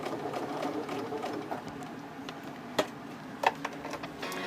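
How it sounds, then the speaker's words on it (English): A sewing machine runs a straight stitch across the bottom of a recycled T-shirt bag, giving a steady, moderately loud mechanical whir with a few sharp clicks near the end and no talking. "I'm going to do a straight stitch across the bottom."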